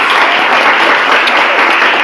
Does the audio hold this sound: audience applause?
yes